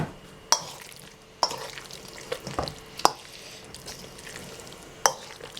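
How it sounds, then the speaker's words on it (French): Asian-style beef is stirred in a pan with a soft frying hiss underneath and a few sharp utensil clicks against the pan at irregular intervals. "Je vais remuer un petit peu."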